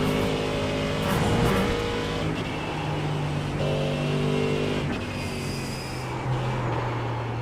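A race car engine roars in a sim racing video game at VIR. It drones steadily and close, rising and falling with throttle and gear changes across the lap, and no one speaks.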